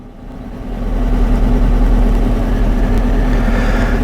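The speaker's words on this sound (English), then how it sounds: "I want to just raise the idle up just a little bit" A 2012 Dodge Charger V8 with a misfire idles, its engine speed rising slightly into a steady, rough low rumble with a faint uneven pulse, heard close and alone.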